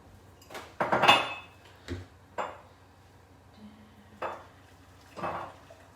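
Jug and dishes handled in a home kitchen, a few separate clinks and clatters spaced apart, the loudest cluster early on, nearby and fairly quiet with no talking.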